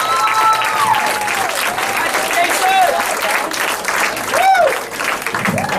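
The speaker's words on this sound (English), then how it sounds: "please give a big round of applause for Jason Bunch" An audience at a comedy club breaks into loud, sustained applause and cheering, a dense wall of clapping with whoops rising over it, continuing throughout.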